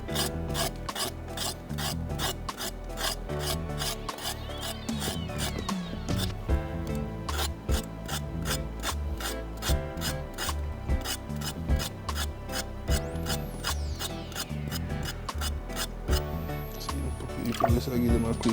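A knife scrapes scales off a red snapper in fast, rasping strokes, a close, steady run of gritty scratches that continues for the whole stretch with brief pauses.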